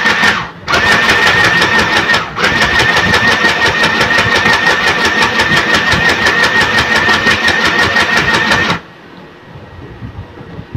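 A sewing machine stitches a straight seam in a fast, steady mechanical run of rapid needle strokes. It pauses briefly twice and then stops, leaving quiet room tone.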